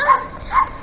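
Two short, close yips from a dog in quick succession, sharp and fairly loud within under a second.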